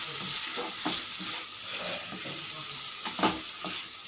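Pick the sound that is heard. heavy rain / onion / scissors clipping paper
onion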